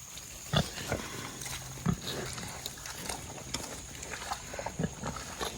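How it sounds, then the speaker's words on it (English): Pigs feed from a flap-lidded feeder, giving a few scattered short grunts over soft background noise, fairly faint and intermittent. "The pigs just pick up that flap with their noses."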